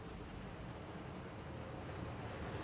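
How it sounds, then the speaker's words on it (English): Water roaring and gushing from a broken water main, a loud, steady broadband rush with no pauses, heard on its own without talk. "Mike, I can barely hear you over the roar over this water here"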